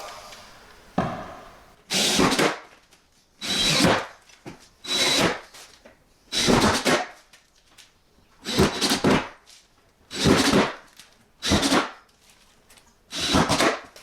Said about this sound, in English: I'll put screws in these side ones as well